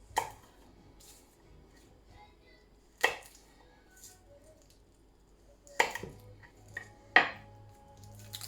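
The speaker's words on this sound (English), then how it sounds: "Give your garlic a crush like we always do." A knife blade pressed down on garlic cloves for a curry, giving a few sharp separate knocks and crunches against a chopping board in a quiet kitchen, spaced a second or more apart.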